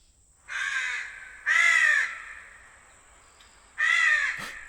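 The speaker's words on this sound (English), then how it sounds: "Yes, that crow, that huge crow." A large crow caws three times, loud and close, with harsh calls separated by short pauses against a quiet background.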